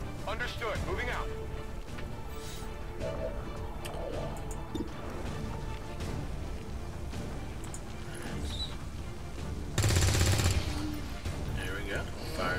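Gunfire in the video game XCOM 2 as a soldier shoots at a zombie, sharp bursts of shots over game background sound and a talking voice, with a louder, dense volley near the end.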